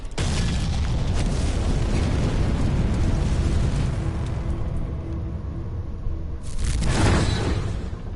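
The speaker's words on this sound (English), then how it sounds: "The howitzer's ready! On standby! Here we go! Firing!" A video game howitzer fires and its shell explodes: a sustained, roaring blast rumble that fills the scene, then a second sharp boom and whooshing surge near the end, loud and close.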